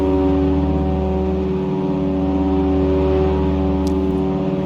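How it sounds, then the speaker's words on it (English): Low, steady engine rumble from a twin-engine Aerostar 601P climbing out at sunrise over Southern California's Antelope Valley in X-Plane 11, a continuous drone with a layered hum, loud and unbroken throughout. "I do like the sound of the engines. The engine sounds are cool."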